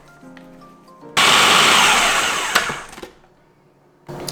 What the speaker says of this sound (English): I'm just gonna pulse all of these ingredients together before we add our dry ingredients